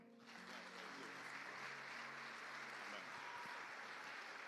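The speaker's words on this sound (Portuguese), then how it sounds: "Aplauda o Senhor." Church congregation applauding together at the close of a Portuguese-language service, a steady dense wash of clapping that holds evenly throughout with faint voices beneath.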